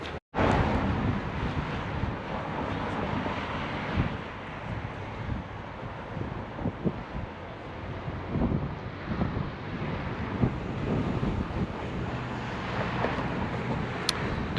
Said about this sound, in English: I finally found the ocean.